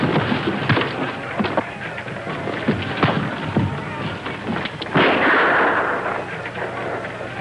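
Gunshots ring out in a 1950s jungle adventure setting, several sharp cracks spaced across the scene amid running and scuffling noise, fairly loud and close.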